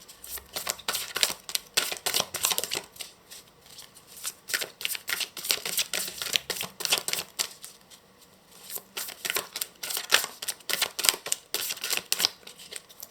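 Tarot cards being shuffled by hand in a steady run of dense riffling and slapping bursts, close and fairly loud, with a short lull midway and no talking.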